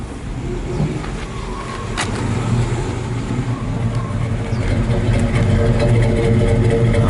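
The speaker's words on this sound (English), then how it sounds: "It's got kind of a low loping idle." A 1941 International K-1 pickup truck engine idles steadily with a low, loping, rumbling, uneven throb through a shotgun exhaust, close by and fairly loud throughout.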